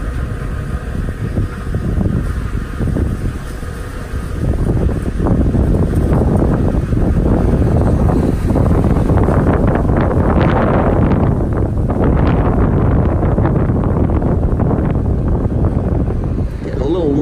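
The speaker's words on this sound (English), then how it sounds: "Getting a little wind kicking up." Strong wind gusts outdoors near a construction crane buffet the microphone with a loud continuous rumble that swells midway, with a voice speaking under the noise.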